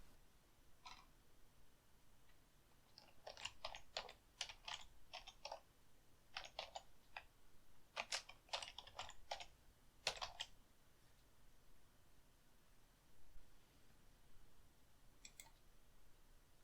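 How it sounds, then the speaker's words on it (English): Someone types on a computer keyboard in quick bursts of close, crisp keystrokes, pausing between runs, with no voices. "click on the Text tool and start typing."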